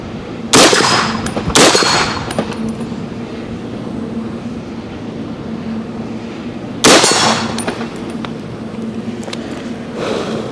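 An Aero Precision AR-10 rifle in .308 fires three sharp, loud reports, two close together near the start and one more after a long gap, with ringing clangs trailing each shot over steady outdoor background.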